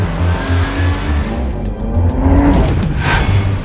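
Hyundai Genesis Coupe V6 rally car racing up the Pikes Peak hill climb, its engine roaring loud and close with rising revs and tire squeal over the continuous drone.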